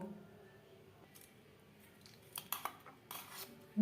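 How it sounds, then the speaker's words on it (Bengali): A utensil scrapes and clinks against a bowl, stirring pancake batter for patishapta pitha just after milk is added. The sound is quiet and sparse at first, then rises into a few sharper scraping strokes near the end. "চায়ের কাপের হাফ কাপ মতো দুধ আমি অ্যাড করলাম আবারও বেশ ভালো করে দু তিনবার ঘুরিয়ে নেব"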